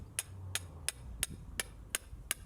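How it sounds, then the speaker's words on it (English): Steel pins are hammered into garden soil, seven sharp metallic strikes at an even, steady rhythm, close and clear with little else around them. "I hammer in some steel pins that I can put tape onto to show me the levels required"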